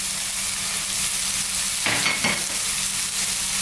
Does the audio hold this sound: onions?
yes